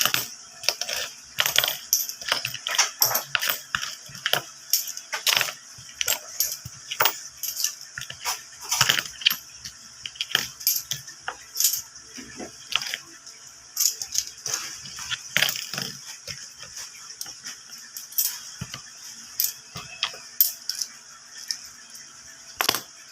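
Loose saved coins are handled and dropped, giving bright metallic clinks and jingling clatters in irregular bursts throughout, close up and with no talk.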